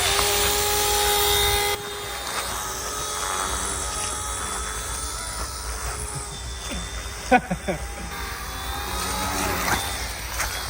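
A small starter RC helicopter runs at full throttle, a steady high-pitched motor whine that drops in level partway through, with people talking over it.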